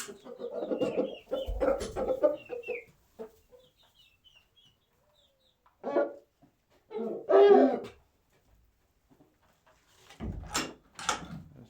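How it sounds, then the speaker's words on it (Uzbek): Chickens kept among other birds cluck close by in scattered bursts separated by quiet gaps, with some louder, sharper calls toward the end. "Mana bu yerda qushlarimiz ham bor ekan."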